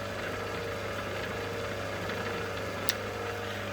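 Lathe change gears run steadily while set up for thread cutting, making a smooth, even mechanical hum with a faint whir and no rattle, close by and without talk.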